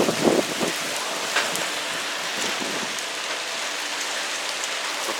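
Rain or hail pattering on metal on a boat build site, a dense steady drumming of drops with a few louder hits near the start, continuous and moderately close.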